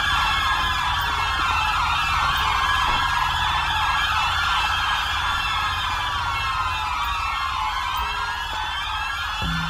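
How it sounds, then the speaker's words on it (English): Several police sirens in the video game LSPDFR wail and whoop at once, overlapping in a loud, continuous tangle that never lets up. "Because them sirens are bloody annoying."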